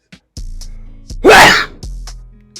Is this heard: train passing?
no